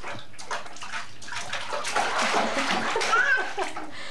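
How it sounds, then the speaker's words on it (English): A baby girl of about ten months splashes water in a bathtub, a near, continuous run of slaps and sloshes with a small voice squealing in places. "And now can give her a splash."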